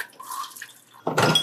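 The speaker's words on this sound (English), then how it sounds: "I'm going to go ahead and drain this water off" Soaked chickpeas have their soaking water drained off in a home kitchen, heard as a short burst of pouring, splashing water that comes in loud after a second of quieter dripping and trickling.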